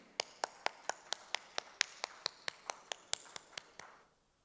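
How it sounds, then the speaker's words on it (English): Clapping at a live design debate event in Chandigarh, a round of applause marked by a steady, even train of about seventeen sharp claps that fade out after four seconds, with no talk over it. "may we please have a huge round of applause for such a thrilling and insightful"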